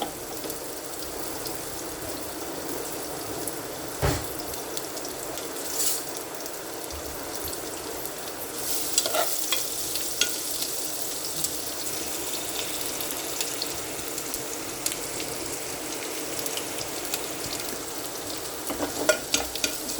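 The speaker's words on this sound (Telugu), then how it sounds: "ముందు గార్లిక్ జింజరు చిల్లీ ముక్కలు ఉన్నాయి కదా, ఆ ముందు ఫ్రై చేసుకోవాలండి కొంచెం లైట్గా" Chopped garlic, ginger and chili frying lightly in a pan for hot and sour mixed vegetable soup, a continuous soft sizzle with occasional stirring scrapes and clinks.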